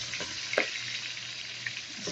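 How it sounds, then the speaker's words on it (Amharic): Red chili peppers frying in a pan, a faint steady sizzle with a few soft clicks and stirring knocks close by, no voices. "በዚህ መልኩ እየጠበስኩት ነው።"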